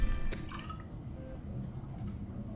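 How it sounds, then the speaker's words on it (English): In the underwater survival game Subnautica, a player drinks bladder fish water, giving wet squishing and dripping gulps over a low ambient game hum. "Drink some bladder water."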